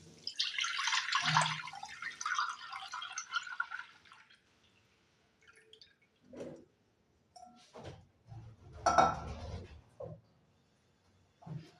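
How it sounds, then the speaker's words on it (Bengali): Milk, 1.5 litres, poured into a kadai holding a little water: a faint liquid splashing stream at first, then scattered soft clinks and knocks of the pan. "এই দুধটা আমি কড়াইয়ের মধ্যে ঢেলে দিচ্ছি।"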